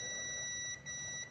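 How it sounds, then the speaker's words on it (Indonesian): A multimeter set to buzzer mode gives a steady, continuous beep while a technician tests a Polytron slim TV that will not power on, the tone faint and sustained over low background hiss. "apometernya di mode buzzer ya."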